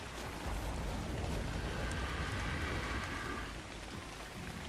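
Rain in Ark: Survival Ascended, a dense, steady hiss of falling rain heard close and continuous throughout, with no voices over it.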